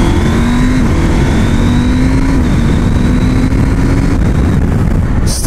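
A Husqvarna Norden 901 adventure motorcycle engine pulls hard through the gears, its loud, close roar climbing in pitch with brief dips at each shift, continuous and alone without talk.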